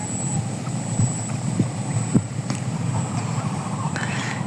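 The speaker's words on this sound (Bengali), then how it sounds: "বলতে বলতে ট্রলার কিন্তু তাদের প্রারম্ভিক স্থানে আবার ফেরত গেছে।" A trawler boat's engine on the lake at Ramrai Dighi amusement park runs as a steady, moderately loud low drone, with light wind buffeting and no voices.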